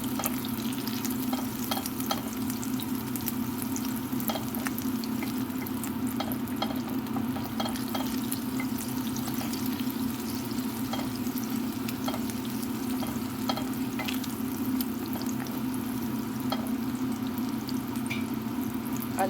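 Butter and rosemary sizzling in a pan for a salmon sauce, a steady close frying crackle with scattered pops and light stirring, continuous and even throughout with a low hum beneath.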